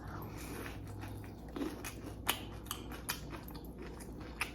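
Close, soft crunching bites and chewing of a crusty bread sandwich with bell pepper and sautéed mushrooms, with a few sharper crackles in a quiet room.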